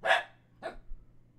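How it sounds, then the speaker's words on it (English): Two short, sharp dog barks about half a second apart, the first louder, heard in the background of a tabletop roleplaying game session with no talk over them. "I have a dog in the background who really wants my attention."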